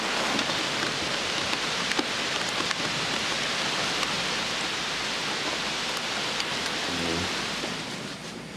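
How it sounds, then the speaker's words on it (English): Rain starting to fall, a dense, even hiss of drops spread across the whole clip, steady and moderately loud with scattered sharper patters and no talk. "the rain started to fall."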